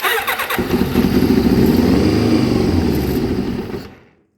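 A Kawasaki Ninja ZX7 motorcycle, unused for 12 years and run with the choke on, cranks and fires, revving roughly for a few seconds before the engine cuts out into silence. The sound is loud and close.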